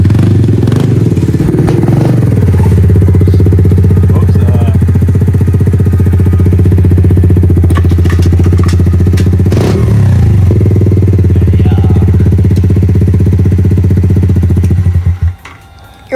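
A dirt bike engine runs loud and close throughout, holding a steady rough drone with a few revving swells and clattering before cutting off abruptly near the end.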